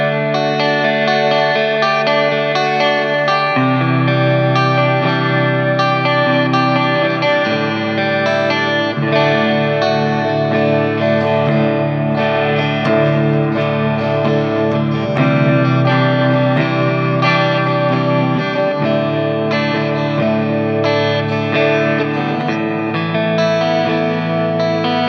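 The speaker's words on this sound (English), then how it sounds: "let's check out some clean tones on the 85 in the neck." Clean electric guitar tones from an ESP LTD EC-1000 played through its EMG 85 neck pickup, a continuous passage of ringing chords and notes with chorus and echo effects, loud and steady with no talking.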